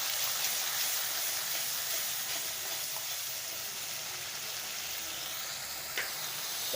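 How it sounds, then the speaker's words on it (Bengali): Vegetables sauté with salt and turmeric in a pan for a stuffed pointed gourd dish, giving a steady, even sizzle that stays fairly quiet and constant, with a faint clink near the end. "এবার এটাকে ভালো করে কষিয়ে নিই"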